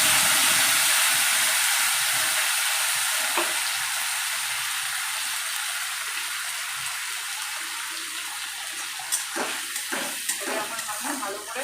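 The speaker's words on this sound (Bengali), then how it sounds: "ভালো করে কষাবো" Cumin, ginger and tomato paste sautéing with red-fried potatoes in a pan, a loud hiss of frying that gradually settles, with stirring clatters and spoon scrapes toward the end.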